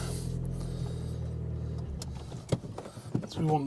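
A Ford Focus power window motor runs with a steady, close hum for about two seconds, then stops, followed by a few clunks and handling knocks.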